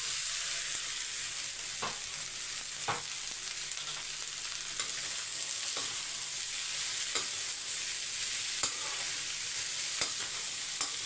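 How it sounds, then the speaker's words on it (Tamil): Ivy gourd tossed into a pan of sautéed onions sizzles at a steady low hiss while a spatula scrapes and clinks now and then, with no voices. "இப்போ இந்த அளவுக்கு வெங்காயம் வதங்கினோடனே கோவக்காவை சேர்த்துடலாம்"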